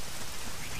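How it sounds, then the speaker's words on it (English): Steady, even hiss of rain falls in the video game Zelda: Ocarina of Time, with no breaks and no other sounds across the short stretch. "Even though it's raining, it's not going to do anything."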